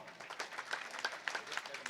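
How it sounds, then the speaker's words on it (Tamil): An audience at a Tamil comedy seminar claps in a loose, uneven burst. A cluster of close hand claps keeps going for about two seconds, moderately loud, with a faint murmur beneath. "செல்போன் வந்ததுக்கப்புறம் நாடு நாசமாக போச்சவங்களாம் கைத்தட்டுங்க பார்ப்போம்."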